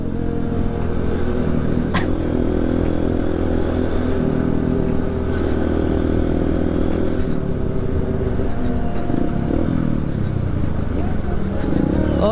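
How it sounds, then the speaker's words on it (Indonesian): A trail motorcycle engine revving nearby, a loud rough drone that rises and falls in pitch with throttle blips, blended with other traffic noise. "Si Helman geber-geber aja nih guys."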